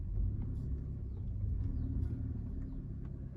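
A Maruti Suzuki car engine idles after starting, giving a low, steady rumble up close with a few faint clicks and no talking.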